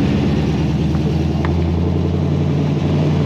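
A Crazy Cart's motor drones loudly and steadily with a constant buzzing hum while cruising around the pit at the OSW track, close up and alone.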